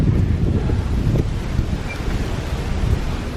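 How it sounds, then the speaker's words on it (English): Steady wind buffeting the microphone, a loud continuous low rumble with gusty fluctuations and no voices. "Oh, it's a bit windy here."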